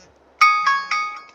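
A phone ringtone chimes as a bright, clean electronic melody of about three or four quick tonal notes, loud and close, with no talk over it.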